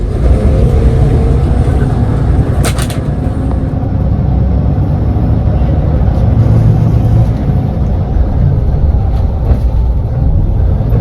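A Harapan Jaya VIP-class bus on a Hino RN 285 chassis pulls away from Pare terminal, its engine a loud steady low drone heard from inside the cabin, with a brief rattle early on.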